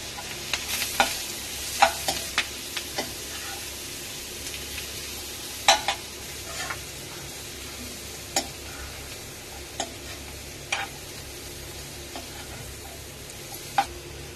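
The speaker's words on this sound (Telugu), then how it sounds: "కరివేపాకు ఒక 3 పచ్చిమిర్చి ఫ్రై చేసుకుంటున్నాను" Curry leaves and three green chillies fry in oil with a steady low sizzle, punctuated by scattered sharp clicks and taps of a spoon against the pan over a long stretch.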